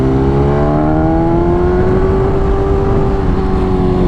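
A 2020 BMW S1000RR sport motorcycle engine drones loudly and steadily while riding, its tone rising slowly through the gear over continuous wind rush.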